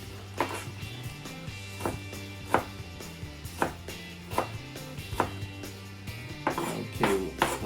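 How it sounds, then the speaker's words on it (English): A knife chops garlic on a cutting board in a home kitchen, sounding as a dozen or so crisp, separate knocks at an uneven pace over a low steady hum. "I'll cut up some garlic."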